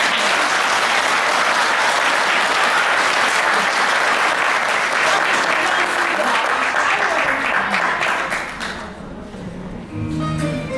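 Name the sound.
audience applause at a children's theatre show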